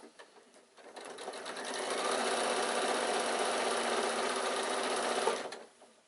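A domestic sewing machine runs at a steady, buzzy whir for about four seconds, rattling slightly as it jumps about on the table, starting and stopping close by with no talk.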